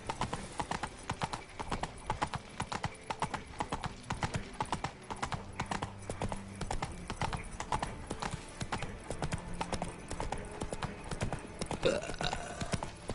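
Horse hooves galloping in The Witcher 3, a fast steady clip-clop rhythm pounding throughout, with brief game sounds and a faint voice layered over the hoofbeats.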